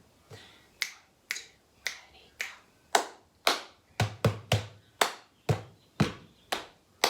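Hand claps and plastic cups tapped on a table in a cup game: about fifteen crisp, close hits in a steady rhythm, with no voices.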